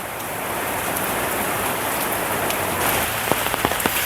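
Steady rain pours down in Phatthalung, Thailand, in a dense, even hiss, with a few louder drops tapping close by near the end.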